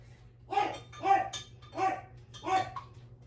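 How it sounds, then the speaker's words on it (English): A dog barks four times in a steady rhythm, fairly close but moderately quiet, over a low background hum. "the mouthpiece is barking"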